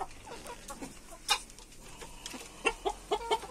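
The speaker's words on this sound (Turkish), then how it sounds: "şimdi tavuklarımız burada." Chickens cluck in a series of short, scattered calls close by, a few louder squawks standing out against a quiet farmyard background.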